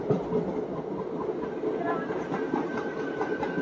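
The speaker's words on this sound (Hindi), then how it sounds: "सामने से लोकल आ रही है।" A local train approaches on the Mathura–Delhi line, rumbling along the rails with a steady rolling clatter, moderately loud, with faint voices mixed into the noise.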